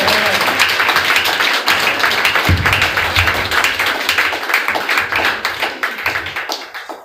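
A church congregation at a Sunday worship and praise service claps loudly and continuously, dense rhythmic applause filling the room throughout, with faint voices underneath.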